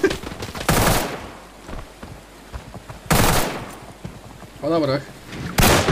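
Gunfire and a bomb explosion in Arena Breakout come as several loud bursts and booms spread across the stretch, with someone talking briefly in between.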